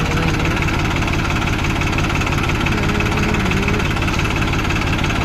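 Diesel tractor engine ticking over at idle nearby, a constant heavy throb with fast rhythmic knocking, loud and unbroken.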